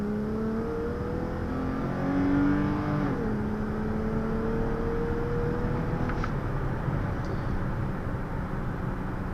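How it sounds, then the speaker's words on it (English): A 2015 Dodge Challenger SXT accelerates hard from inside the cabin, a steady engine drone rising in pitch through the gears with a brief shift dip, then a sustained high whir as speed builds. "So pretty good acceleration there, got up to about 75 in, you know, less than 5 seconds"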